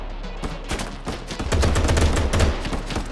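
Gunfire in the video game Gangstar New Orleans: a run of sharp close shots that speeds into rapid automatic bursts, loud and with no talk.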